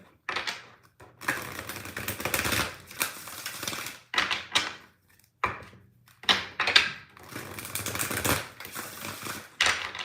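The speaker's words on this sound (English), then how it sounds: "let me just give this a quick shuffle because this deck has been sitting there for a second" A tarot card deck being shuffled by hand, several loud riffling bursts a second or two long with short gaps between them, heard close up and alone.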